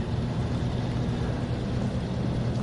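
A vehicle engine drones in a video game, a continuous loud buzzing rumble without breaks for the whole short stretch.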